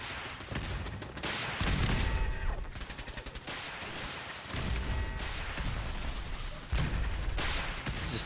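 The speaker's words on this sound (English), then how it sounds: "Oh, there comes the rockets." Incoming rockets and gunfire in the video game Fallout 4: loud, dense bursts of rapid shooting and heavy blasts, with brief lulls between the waves of fire.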